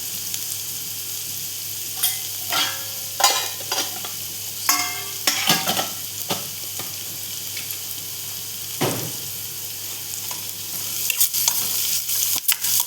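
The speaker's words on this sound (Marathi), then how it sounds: "चांगला कांदा परतवून घेऊया." Onion sautéing in a pan with turmeric and asafoetida, a steady sizzle broken by repeated scraping stirs from a utensil, close and fairly loud with no talking.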